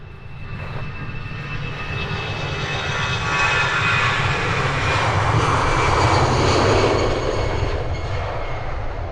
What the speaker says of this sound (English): Early rotation from this EasyJet A319.